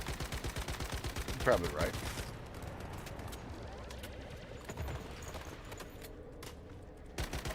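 Video game pistol fire in Once Human, a quick regular string of sharp shots at the start followed by a few scattered single pops, heard faintly alongside brief talking.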